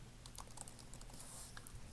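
Rapid, quiet typing on a computer keyboard while entering text in CAD sketch software: soft, irregular clicks in quick succession, faint and close, with no voices.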